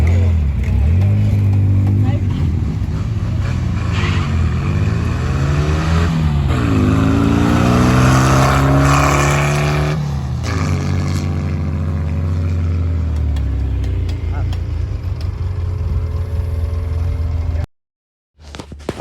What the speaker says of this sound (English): the only thing I have left to do is go ahead and run the car and see what it runs in the 8th mile